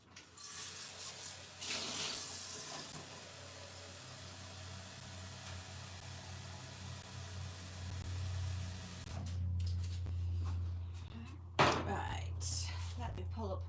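Steady water from a tap runs for dyeing in a livestream setting, a continuous hiss that keeps going for most of the stretch before breaking off into clattering handling sounds, with quiet speech-like murmurs alongside.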